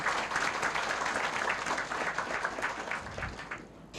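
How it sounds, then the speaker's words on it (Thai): A crowd applauds in a Thai presentation hall, giving dense, continuous clapping that holds steady for a few seconds, then thins and fades toward the end. "ปรบมือให้แอสตาแซนทินด้วยค่ะ"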